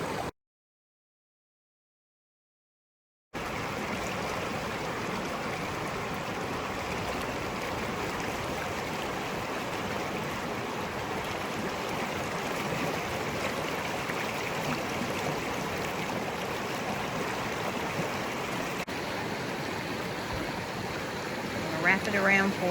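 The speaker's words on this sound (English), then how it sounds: "I'm sitting out here in the middle of the river." A steady broadband wash of river water flows continuously around someone sitting in the middle of a river at Worlds End State Park in Loyalsock Forest, Pennsylvania, close and even throughout after a brief silent opening.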